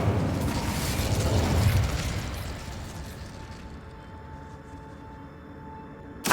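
A fire spell cast in a Harry Potter video game: a loud, roaring whoosh of flame with a booming burst up front, slowly fading into a low rumble with no voices.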